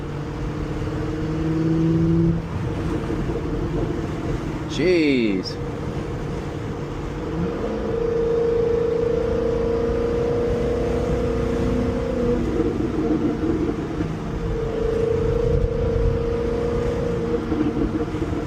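Exhaust from a C6 Corvette with gutted catalytic converters and a Corsa Xtreme system on deceleration, with a steady low drone, crackles and burbles as the revs fall. It plays loud from inside the moving car, and a short exclamation comes over it.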